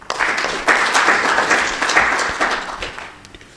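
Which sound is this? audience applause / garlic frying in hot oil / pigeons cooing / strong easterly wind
audience applause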